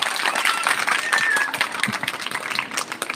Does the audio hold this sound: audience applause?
yes